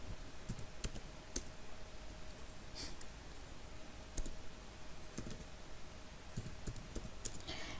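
Computer keyboard keys tapped to enter a telnet command, soft scattered clicks at an uneven pace, close and fairly quiet over a low background hiss.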